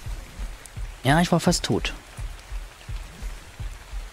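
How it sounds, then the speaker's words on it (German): Rain falls in the video game ARK: Survival Evolved as a soft, steady hiss with light low patter, running under a voice speaking close to the mic. "Oh, jetzt regnet es auch noch."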